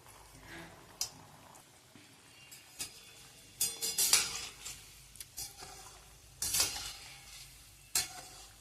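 Gulab jamun frying in medium-hot oil and being stirred: a soft, steady sizzle broken by scattered scraping and clinking bursts of the spoon moving them around, fairly quiet and close, with no talk.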